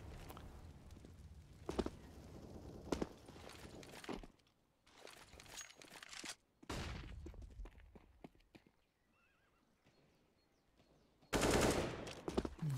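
Automatic rifle sprays ring out in a Counter-Strike match, repeated rapid bursts of gunfire separated by quieter stretches of footsteps and game ambience, with a loud final volley and no commentary heard.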